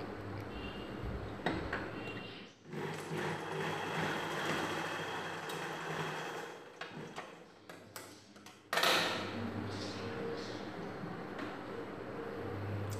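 A sewing machine runs a straight line of stitching along the tucks of a princess cut blouse, a steady mechanical whir with a low hum, broken by brief stops and restarts.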